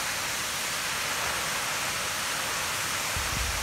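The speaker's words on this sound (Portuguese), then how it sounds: "olhando essa cachoeira tão alta e bonita" A tall waterfall roars in a steady, dense rush of falling water, loud and unbroken with no other sounds.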